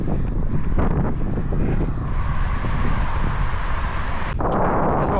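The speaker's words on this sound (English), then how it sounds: "Can you hear this wind?" Strong wind buffets the microphone outdoors during a run, a loud continuous roaring rumble that swells and gusts throughout with no talking.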